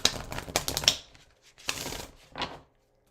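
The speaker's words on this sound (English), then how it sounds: "While I'm shuffling" Oracle cards are shuffled close by in a few quick papery bursts of riffling and slapping, separated by short pauses, with no talking.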